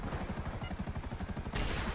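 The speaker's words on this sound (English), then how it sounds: "you just fire at anything that shows up" Rapid machine-gun fire from a vehicle-mounted weapon in a video game, a steady pulsing rattle of shots that swells into a louder, denser burst near the end.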